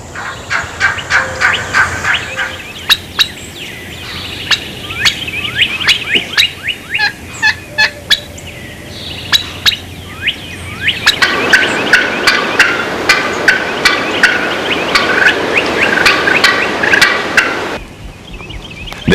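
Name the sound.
wild turkeys gobbling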